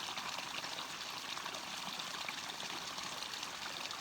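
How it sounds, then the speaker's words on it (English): Water in a forest stream ripples and trickles continuously, a steady, even rush of flowing water with no voices. "Just the sounds of the ripples of the water"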